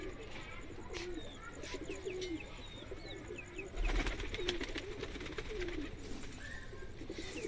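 Faint, intermittent cooing and small calls come from a group of Madrasi pigeons on a Delhi rooftop, low in level with a brief louder burst midway.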